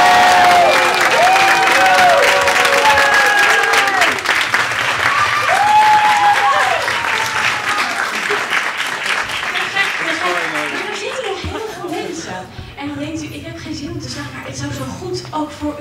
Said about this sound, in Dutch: jullie gaan klappen, staan, joelen, gillen